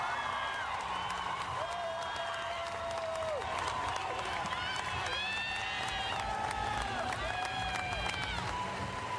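A large crowd applauds and cheers steadily at the 2026 WNBA Draft, with a few whoops rising out of the dense clapping and someone talking over it.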